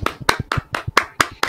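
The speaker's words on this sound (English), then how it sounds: "we're going to give him the claps" Hands clap in a slow, steady rhythm, seven sharp claps close by and evenly spaced, with nothing else around them.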